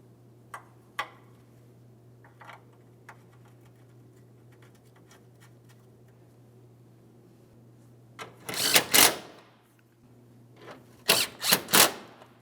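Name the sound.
ratchet tightening 12mm radiator mounting bolts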